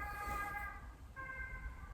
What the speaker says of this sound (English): That's how the ambulances sound in this country.